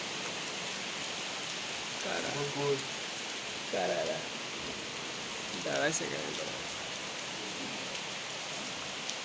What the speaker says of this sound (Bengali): ও মাশাল্লাহ কি চমৎকার প্রশান্ত বৃষ্টি